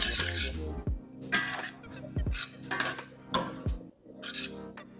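A utensil scrapes and clinks against a pan while cheese is stirred in, in an Italian mountain village kitchen, with several separate bursts of metallic scraping spaced about a second apart, close and clear.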